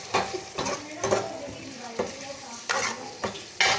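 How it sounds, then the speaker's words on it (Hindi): Keema aloo, minced meat and potatoes, sizzles in a pan while a spoon stirs it, giving a soft frying hiss broken by repeated scraping strokes against the metal every half second or so. "इसकी बुनाई कर रही थोड़ी सी"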